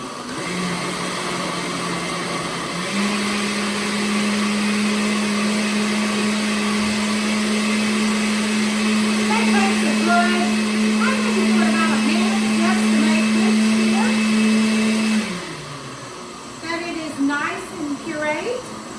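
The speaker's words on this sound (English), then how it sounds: "we're going to blend this up first before we add our ice, because as you can see, there's no room. So you just put it on puree" A blender on its puree setting churns watermelon with lemon juice into a slush, running as a loud, steady motor whine for about twelve seconds before it winds down. Brief rattling and faint talk come before and after.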